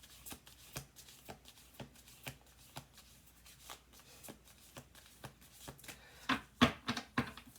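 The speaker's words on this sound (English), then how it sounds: "we're going to do 2 more shuffles on this" Tarot cards being shuffled by hand, a steady run of soft riffling taps and slaps, quiet and close, building to a few louder, crisper flicks near the end.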